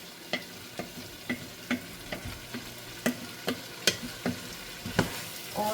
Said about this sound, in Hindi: आलू जो है हमारे जो है ना वो भून गए हैं अच्छी तरह